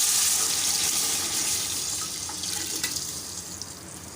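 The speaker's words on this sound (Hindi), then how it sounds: "तो अब इसके अंदर हम ऐड कर देंगे यखनी।" Yakhni stock pours into browned chicken for a white chicken pulao, a close, continuous liquid splash and trickle that slowly thins out over a few seconds, with no talk.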